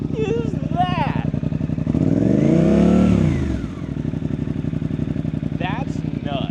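A Suzuki GSX-8R motorcycle with a Yoshimura exhaust, warmed up, idles with a loud throb. It then rises in one sharp rev that peaks and falls back to idle. People talk over the idle before and after the rev.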